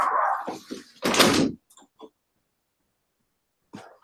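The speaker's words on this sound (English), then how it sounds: "I'm going to shut this door now because the tiny barking is driving me nuts" An indoor door is shut with a single solid thud right after a voice speaks, followed by a few faint, short yips from small dogs and then near silence.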